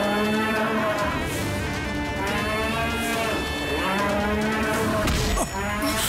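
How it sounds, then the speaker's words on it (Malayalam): A bull brought in for a competition lets out long, drawn-out moos, one after another, loud and close, with a brief clatter near the end. "ഈ മത്സരത്തിനായി വീണ്ടും ഒരു ഭയങ്കരനായ കാളയെ വരുത്തിയിരിക്കുന്നു"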